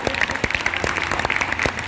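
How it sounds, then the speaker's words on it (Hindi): An audience claps softly, with scattered, light individual claps repeating at an irregular pace for a couple of seconds, fairly quiet and without any cheering. "अपने लिए भी ताली बजा रहे थे इतना आहिस्ते से"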